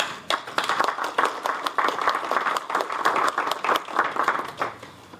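Applause at an Orangeburg County Council meeting, a modest group clapping in a loose, uneven rhythm of distinct hand claps, moderately near and steady for several seconds.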